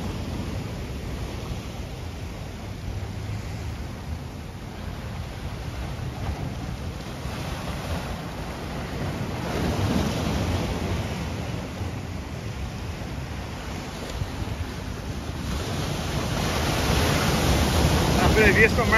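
Rough sea at Santos, Brazil, with waves surging and breaking on the shore in a continuous low roar, swelling louder toward the end, mixed with wind buffeting the microphone.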